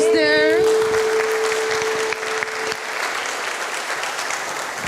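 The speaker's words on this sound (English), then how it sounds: "I want to ask for an applause for the composer who is there." Audience applause for the composer at a piano concert, a steady, full wash of clapping from a concert hall crowd that carries on evenly after a brief vocal note at the start.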